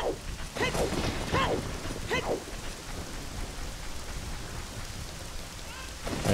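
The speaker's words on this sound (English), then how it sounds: "Why is it just raining in Kakariko now?" Steady rain falls over Kakariko Village in The Legend of Zelda: Ocarina of Time, a constant soft patter throughout with a brief voice-like sound early on.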